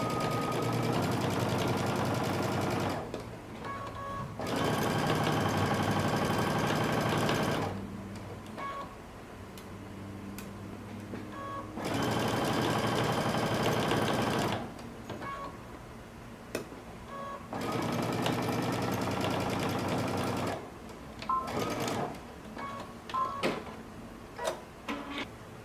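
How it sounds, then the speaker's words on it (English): A sewing machine stitches along a sweater neckline in several long, steady whirring runs separated by pauses with faint ticks and clicks, close and moderately loud. "we're just going to stitch right along the edge, just along the neckline,"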